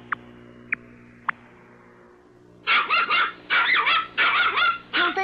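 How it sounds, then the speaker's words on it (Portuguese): A small dog yaps in quick bursts of high, sharp barks, close and loud, following a few faint isolated clicks in a quiet room. "Deixe-me ver o cachorro."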